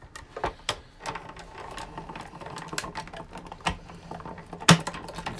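Four sharp punches of a card-making die cutter trimming paper card corners on a tabletop, each a crisp clack spaced across the moment, the last one loudest, with light table shake and handling between.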